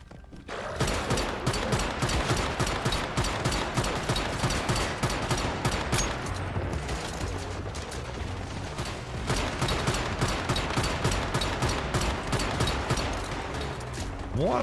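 Sniper and rapid gunfire ring out in a video game, with dense, loud, continuous volleys of shots cracking in quick succession for about fifteen seconds. The firing pauses only briefly.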